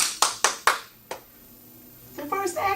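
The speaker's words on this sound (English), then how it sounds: "They clapping and screaming." A handful of sharp, separate claps from an audience, close and moderately loud, followed by a quiet pause and then a voice starting to speak.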